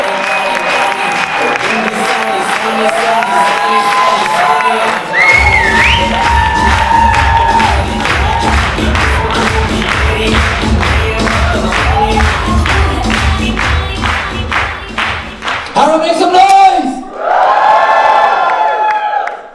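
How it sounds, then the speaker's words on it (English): A crowd at an India versus Pakistan stand-up comedy show claps, whoops and cheers loudly, with shouts rising over sustained applause and a thumping musical beat, swelling again toward the end. "Please start clapping, whooping and cheering."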